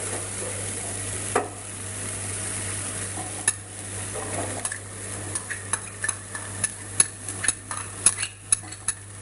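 Grated carrot stirred and sautéed in a pan for vegetable upma, with a soft continuous sizzle under a steady low hum and a series of sharp spoon clicks and scrapes against the pan, growing more frequent toward the end.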